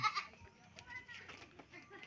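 Goats, a herd of kids and adult does kept as farm livestock, bleat faintly at a distance, with a few thin calls rising over low background noise.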